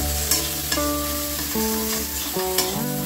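Jujube (kul) frying in a pan with turmeric and salt for a traditional kuler chutney: a steady hiss of sizzling beneath background music, punctuated by a few brief stirring clicks.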